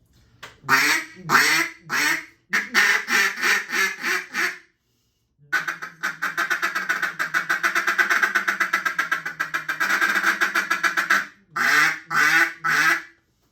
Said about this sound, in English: they're a polyacrylic duck call